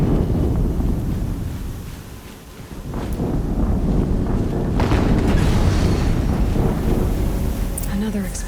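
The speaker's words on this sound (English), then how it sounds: "Another explosion." Deep booming explosion in the video game Horizon Zero Dawn, a low rumbling blast that swells after a brief dip and lingers as a dense, windy roar with scattered crackling bursts.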